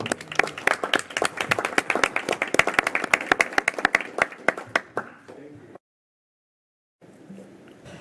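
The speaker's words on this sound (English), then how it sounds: "let's give him a round of applause" A school board meeting audience gives a round of applause, a dense burst of clapping from a roomful of people that tapers off and stops, followed after a pause by a faint murmur.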